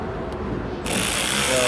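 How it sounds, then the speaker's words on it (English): A Snap-on 3/8-inch ratchet tightens bolts during a passenger-side power mirror replacement on a 2016 Ford Escape. After a quieter start, a brief, close, loud burst of rapid ratcheting clicks follows. "This is a snap-on 3/8 ratchet."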